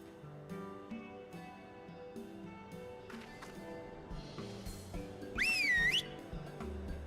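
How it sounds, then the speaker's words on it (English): A single whistle made with the mouth in Final Fantasy XIV rises and falls in a bright wavering tone for about a second, over soft background music. "You just whistled with your mouth."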